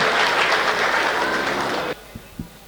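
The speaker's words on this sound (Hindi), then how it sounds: "एक बार मुझे पुनः अपनी तालियों से बताएं।" A crowd applauds after a patriotic poem about martyred soldiers at a live recitation. The clapping is loud and dense, then stops abruptly, leaving a couple of soft knocks.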